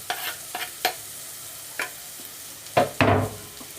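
Onion sautéing in a pan for tuna carbonara, given a few brisk stirs: short scraping knocks over a faint sizzle, then a louder burst of frying as the onion goes in near the end.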